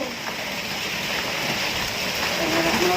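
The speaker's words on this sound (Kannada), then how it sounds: "ಹೊಂಟದ ನೋಡ್ರಿ ಸದ್ದ ಮಳೆ" Approaching rain makes a steady broad hiss and roar that builds slightly, with no drops picked out, filling the open outdoor air.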